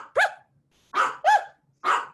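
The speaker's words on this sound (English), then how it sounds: "That my dogs are gonna get worked up." Dogs bark four times in short, sharp bursts, loud and close, with brief gaps between the barks and no talking underneath.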